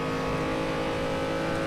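A race car engine in the Assetto Corsa racing game drones steadily and loudly at sustained high revs on the Nurburgring Nordschleife, with a continuous harmonic tone and no pauses.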